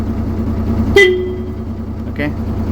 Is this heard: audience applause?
no